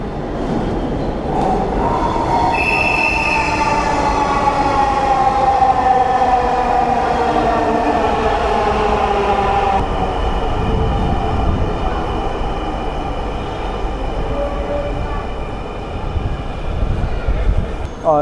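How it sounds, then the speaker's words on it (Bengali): A Dhaka Metro Rail train runs past at close range, its steady loud rumble and rising electric motor whine filling the whole stretch without pause. "আর আমি মূলত আপনাদেরকে দেখাবো ট্রেন এখানে ঘুরে কীভাবে।"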